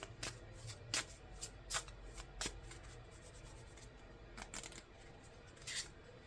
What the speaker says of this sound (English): Let's draw some cards here.